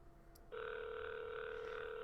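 A telephone ringing in a quiet room, one steady electronic tone that starts abruptly and holds without a break.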